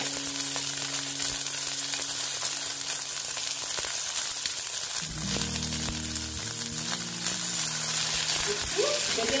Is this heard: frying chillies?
yes